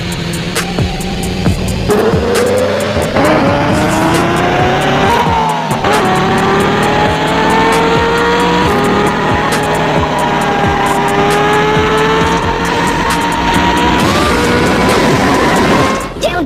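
Race cars in an Android racing game, engines droning and revving continuously with shifting pitch as they accelerate and corner, loud and steady throughout, with a narrator's voice over the top.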